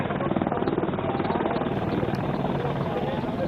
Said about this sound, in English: right now on screen you can see Apache helicopter slowly moving towards the place, and after flyby it has landed there